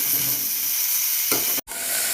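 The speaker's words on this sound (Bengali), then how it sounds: "আর সামান্য একটু হলুদ গুঁড়ো দিয়ে ভালো করে লাল লাল করে ভেজে নেব" Onions fry in oil with salt and turmeric for a cauliflower dish, a close, constant hiss and sizzle with a brief stirring swell before a momentary cut-out.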